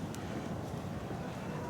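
Strong outdoor wind gusts of roughly 20 to 30 miles per hour in unusually warm January weather near beehives, heard as a low, rumbling buffeting of the microphone throughout.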